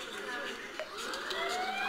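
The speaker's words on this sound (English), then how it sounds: "you want the ambulance, so you can recreate that hospital environment." A wailing emergency siren rising in pitch, heard at moderate distance amid background noise.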